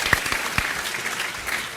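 An audience at a PAX 2010 gaming convention panel claps and cheers, a dense, steady burst of applause with a few sharper whoops near the start.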